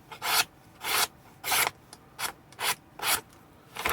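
Handmade knife edge slicing through paper in a cutting test, about eight short rasping strokes in steady rhythm, close and clear with no talk.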